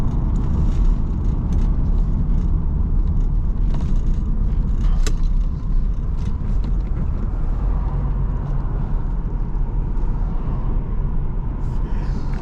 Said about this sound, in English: It's got a nice little exhaust tone to it.